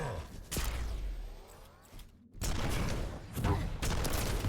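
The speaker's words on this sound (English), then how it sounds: "Oh, and again with a beautiful rocket." Rocket launcher fire in a fast video game duel, with bursts of blasts and explosions separated by a short quiet gap, loud and close, with commentators talking over the action.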